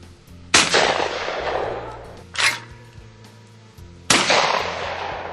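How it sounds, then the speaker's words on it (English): Shotgun blasts at a 4-H hunter education event: three loud, close reports spaced a second or two apart, each with a long rolling echo that fades outdoors. "They'll do shotgun."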